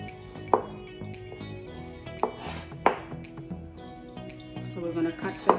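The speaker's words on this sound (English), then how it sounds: "we're gonna cut the jalapeno pepper into small slices" A knife slices a single jalapeno pepper into small pieces on a board, making a few sparse, crisp chops spread out over several seconds with faint kitchen clinks between them.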